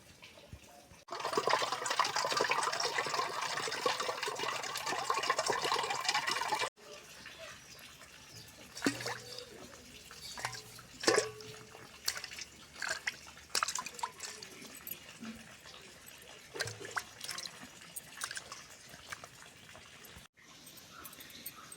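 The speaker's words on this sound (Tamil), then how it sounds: "இப்போ நம்ம இதை வந்து நல்லா அலசி எடுத்துக்கிற வேண்டியதான்." Running water rinses cut neymeen fish pieces in a kitchen: a loud splashing stream at first, then quieter sloshing, dripping and clinking of pieces being washed by hand nearby.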